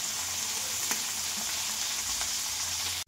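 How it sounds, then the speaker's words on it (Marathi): Fish sizzles and fries in a small amount of oil in a pan, a steady close crackling hiss with faint stirring clicks and a brief clatter near the end. "तर चला मी आता मच्छी फ्राय करून घेते"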